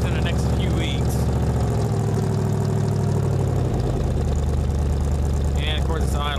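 A Ford 302 V8 idles with a deep, steady exhaust rumble that runs throughout. Someone talks over it at the start and again near the end.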